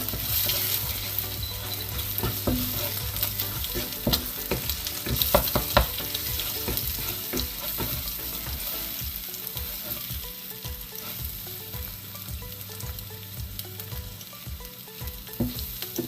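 A frying pan of curry sizzles steadily while a spoon stirs it, with scraping and clinking strokes rising over a constant close hiss, no talking.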